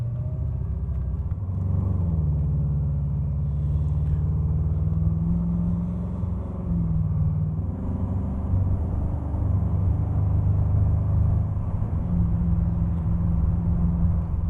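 A 1998 Aston Martin V8 Coupe drives on a road test with a steady, loud interior engine drone and rumble. The pitch dips and rises gently a few times as the car changes speed.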